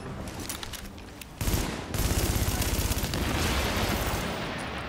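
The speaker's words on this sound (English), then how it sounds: "They're shooting at me. Warning. Hostiles incoming." Enemy gunfire in The Division: scattered shots give way to sustained rapid automatic bursts that grow louder and denser, with heavy rattling fire over the last three seconds and no talking.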